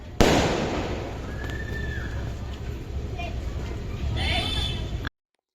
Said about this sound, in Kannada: ಅದ್ದೂರಿಯಾಗಿ ಪಟಾಕಿ ಎಲ್ಲ ಹೊಡ್ಕೊಂಡು ಗಣೇಶನ ತೊಗೊಂಡೋದ್ವಿ